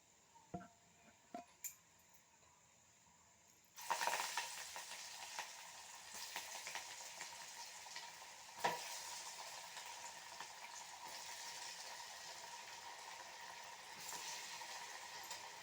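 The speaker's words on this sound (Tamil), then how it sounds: "இதை தான் இப்போ நான் எண்ணெயில் போட போகிறேன்." Small flattened vada dough dropped into hot oil, a few soft taps followed by a sudden steady bubbling sizzle that continues evenly, fairly quiet.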